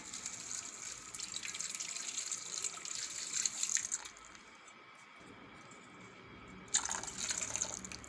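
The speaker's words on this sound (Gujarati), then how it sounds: "તો આપણે આ બધી પાંખડી ધોઈ લીધી છે તો આપણે એમાં બે ગ્લાસ પાણી નાખશું" Water splashing and trickling steadily, close by, as two glasses of water are poured into a pot of washed dried rose petals, with a brief quieter pause midway before the flow picks up again.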